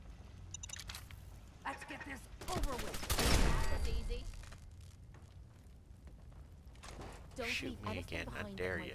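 Fallout 4 gunfire rattles in bursts and rapid volleys, mixed with a sweeping blast and game sounds, fairly close with a voice talking across it.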